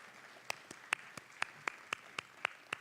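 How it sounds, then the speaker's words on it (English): Sparse, faint handclaps at an education awards ceremony as presenters walk out, roughly ten separate claps in an uneven rhythm from a small audience, heard at a distance. "Have people ever clapped before just because you walked?"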